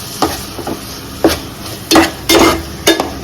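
Chicken masala with chopped coriander is stirred in a pan, a spoon scraping and knocking against the metal in several separate strokes, close and loud, with no talking.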